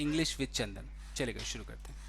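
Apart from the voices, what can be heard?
No distinct noise like a dog, phone or traffic.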